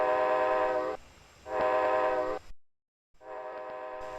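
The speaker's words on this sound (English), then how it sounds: "I hear a train." A train horn in the flight simulator game Flight1 King Air B200 blares in long sustained blasts, two loud sounds separated by a pause, then a brief silence before another horn blast begins.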